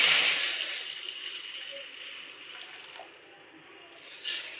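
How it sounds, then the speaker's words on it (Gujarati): Hot water is poured over four kinds of mixed pulses to soak them, a close watery gush that starts strong and gradually tapers before swelling slightly again. "હવે આપણે બધા કઠોળ લીધા છે એમાં આપણે ગરમ પાણી નાખી દઈશું."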